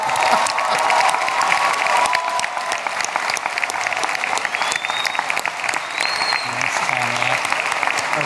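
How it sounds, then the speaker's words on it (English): At a Guttman Community College commencement, a large audience applauds the graduates with sustained, dense clapping and some cheering, steady and loud throughout. "Graduates, you may now turn your tassels from the right to the left of your caps, and I think we should applaud."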